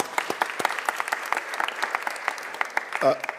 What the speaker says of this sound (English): Let's give the mayor another round of applause.